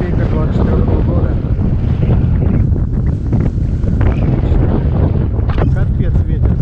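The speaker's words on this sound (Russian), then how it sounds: "Капец, ветер" Heavy wind buffets the microphone in a constant, roaring rumble during metal detecting in a plowed field, with muffled talk and rustling faintly underneath.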